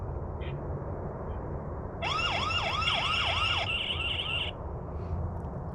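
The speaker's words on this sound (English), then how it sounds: "I'm actually going to activate the siren so you can kind of hear it" A loud, rising-and-falling electronic siren from a ViZiUUY 5MP PTZ home security camera wails for about two and a half seconds in short repeated sweeps, then cuts off, over quiet background hiss.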